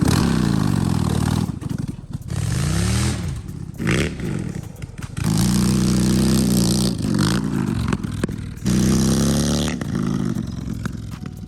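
A lawn mower engine fitted with wheelie bars revs hard and loud, its pitch rising and falling between throttle bursts, with scraping and clattering mixed in and a few brief gaps.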